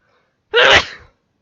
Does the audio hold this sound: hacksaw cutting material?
no